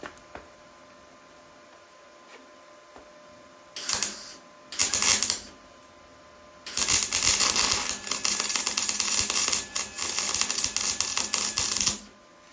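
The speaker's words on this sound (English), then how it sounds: "I'm just putting a couple of tack welds on, just to hold it in place really, while I test it." Tack welds go onto a Honda Supercub C125: a couple of short, crackling buzzes of welding arc, then a longer sustained sizzle of several seconds, over a quiet hum.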